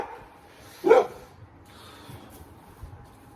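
A dog gives a single sharp bark at a moderate distance, followed by faint scattered yips against a quiet background.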